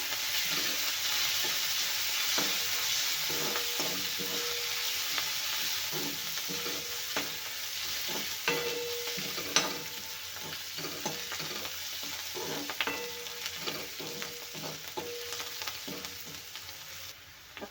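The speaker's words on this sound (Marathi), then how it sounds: "आता आपण कढीपत्ता आणि कोथिंबीर पण टाकून घेऊया ते पण तेलात भाजून घेऊया" Curry leaves and coriander roast in hot oil with onion and green chilli, a continuous sizzle punctuated by frequent spoon taps and scrapes against the pan, with no one speaking.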